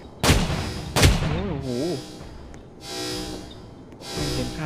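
Two loud, close shotgun blasts boom in quick succession in a Roblox game, each with a hard crack and rumbling tail, followed by quieter game noises and brief tonal sounds.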